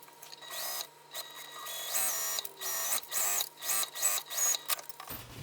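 A sewing machine bastes along the bottom of a bag, joining the lining and the exterior across the gusset. It runs in several short, near, mechanical bursts with brief pauses between them, and no one speaks.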